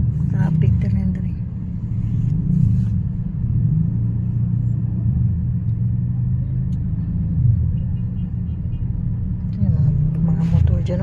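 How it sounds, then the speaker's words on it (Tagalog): Busy morning street traffic with motorcycles and tricycles crawling past near a market, a continuous low engine rumble with passing vehicles, while someone talks over it. "Medyo matraffic dito. Dami mga tricycle."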